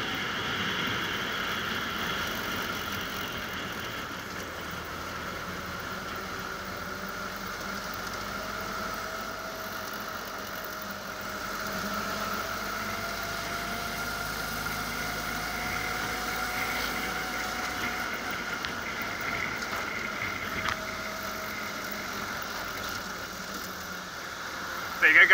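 A Willys jeep engine labours slowly up a gorge in low second gear, a steady mid-pitched drone with a faint whine rising and falling, continuous and moderately close throughout.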